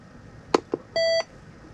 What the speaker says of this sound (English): now you can turn that beep off